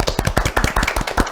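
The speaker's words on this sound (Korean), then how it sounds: "큰 박수로 오늘의 주인공을 모셔보도록 하겠습니다." An audience at a Saturday science lecture applauds to welcome the speaker, a brief burst of dense, rapid hand claps from a small crowd close by.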